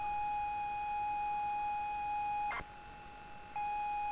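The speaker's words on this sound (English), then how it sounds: "Oh, there's a beep there." A steady pure beep plays from a computer game cassette tape, a single long tone lasting about two and a half seconds, then a gap of hiss before it resumes.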